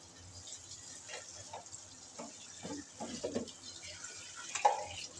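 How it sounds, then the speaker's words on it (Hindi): Water pours into a cooking pot of spiced curry base with turmeric and masala, a soft, uneven splashing and trickling close by, fairly quiet and steady with a few louder sloshes. "अब इसमें हम डाल देंगे पानी।"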